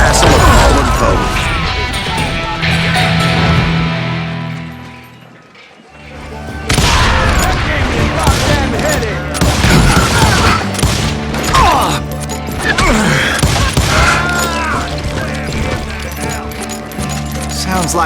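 Dense, loud gunfire from hired guns in the PC game Call of Juarez Gunslinger, rapid shots and booms crackling almost without pause, briefly dropping away in the middle before resuming heavily.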